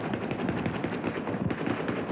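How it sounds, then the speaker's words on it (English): Dense, continuous gunfire from a bank robbery shootout, with police pouring rounds at armored suspects; rapid overlapping cracks and bursts form a steady barrage throughout, loud and without pause. "Everybody was just pouring in gunfire on these suspects."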